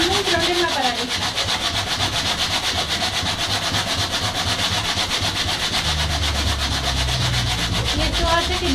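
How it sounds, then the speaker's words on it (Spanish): Steady back-and-forth rubbing of sandpaper by hand over a carved wooden male mannequin, a continuous loud scratchy rasp with no break and a low background hum. "Esta es la forma de lijarlo, respetando las formas."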